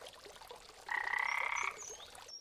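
A frog croaks as a story sound effect, a single bright sustained croak rising out of faint background and lasting under a second, with no talking.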